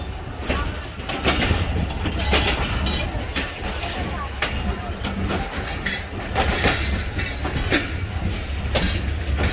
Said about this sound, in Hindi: पूरी गाड़ी डिपार्चर हो गई यहाँ से